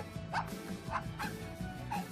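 A dog aboard a river barge in Thailand gives a few short, territorial barks and yips over a low steady engine drone, fairly close but not loud.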